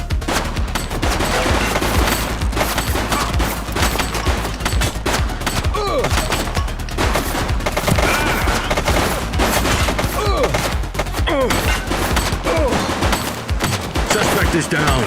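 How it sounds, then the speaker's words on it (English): A sustained firefight in the police video game The Precinct, dense overlapping volleys of gunshots crackling continuously for several seconds at high level, with shouted voices mixed in. "Shots fired!"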